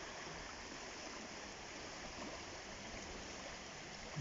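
Calm river water flowing steadily at Afton Dam among trees and hills, a soft, even wash of sound with no sharp splashes, faint and constant throughout.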